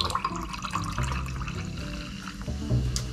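Apple-flavored energy drink is poured on top of other energy drinks in a glass, a continuous near fizzing, gurgling stream with a slight splash swell near the finish.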